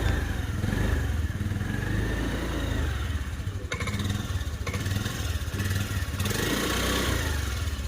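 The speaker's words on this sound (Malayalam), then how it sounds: "വണ്ടി ഒന്ന് ഓണാക്കി നോക്കാം, നിങ്ങൾ അതിൻ്റെ സൗണ്ട് ഒന്ന് കേട്ട് നോക്കുക." A 2020 motorcycle with about 25,000 km idles steadily nearby, an even throbbing rumble with a light mechanical clatter and no talking.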